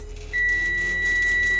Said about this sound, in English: I'll get an alarm saying parking brake is not set.